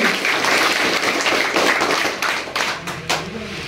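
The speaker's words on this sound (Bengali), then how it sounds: "সবাই মিলে একবার জোরে করে হাততালি দিয়ে দেন" Audience at the inauguration of an AGP party Panchayat election office in Sonai claps together in loud, dense, sustained applause that thins slightly toward the end, with no voices over it.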